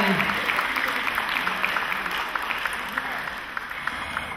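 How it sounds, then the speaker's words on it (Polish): A large audience at a Miss Polonia regional beauty pageant applauds the first runner-up, giving steady, sustained clapping from a crowd that sounds moderately distant. "Wielkie brawa"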